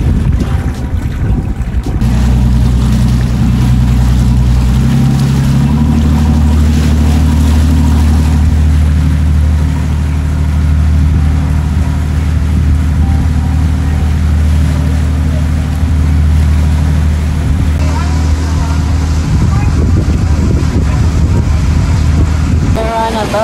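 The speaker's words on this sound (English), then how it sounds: "We're on a boat and it's going kind of fast" A boat moves fast across the water near Davao City, its engine a loud, constant low drone with rushing water and wind noise over it, while people talk now and then in the background.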